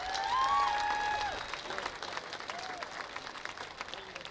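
Audience applause for volunteers at a street ribbon-cutting ceremony, a crowd clapping steadily, fairly distant and soft, tapering off, with a voice speaking over the start.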